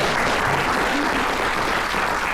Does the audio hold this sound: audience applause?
yes